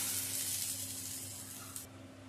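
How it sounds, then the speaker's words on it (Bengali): Baim fish fry in hot oil in a pan, giving a soft, steady hiss and sizzle that fades slightly and ends with a brief brighter spurt. No one speaks. "মাছটা উল্টে দিয়ে আবার একটু ভেজে নেব।"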